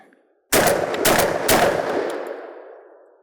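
Military Armament Corp 1014 shotgun fired in three quick, loud, close blasts about half a second apart, the reports ringing out and decaying over the following second and a half.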